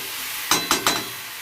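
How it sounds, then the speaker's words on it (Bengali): Garlic and potatoes being stirred in a pan, three short scraping stir strokes in quick succession over a faint continuous sizzle, close and alone. "আলুটাও দিয়ে দেবো, ওর সাথে কষানো হয়ে যাবে। রসুনগুলো দিয়ে দেবো, একটু নেড়ে দিয়ে"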